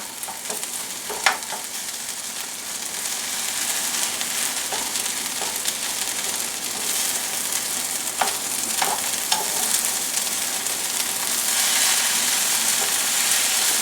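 Italian hot sausage and minced garlic sauté in a pan with a steady, dense sizzle and crackle, broken by a few sharp stirring scrapes and pops; no one speaks.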